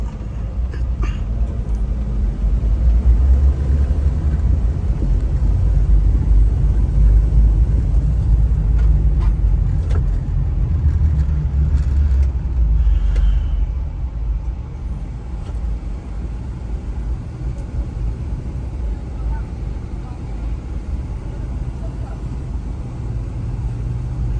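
Steady low traffic rumble of cars and motorbikes passing along a village side road during a Filipino fiesta, louder for the first half then easing to a softer continuous drone, no talking.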